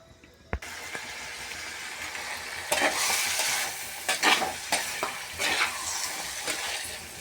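Pieces of mutton dropped into hot oil in a clay pot for a mutton fry, a brief clatter followed by a loud, crackling sizzle that swells and spits with occasional stirring knocks.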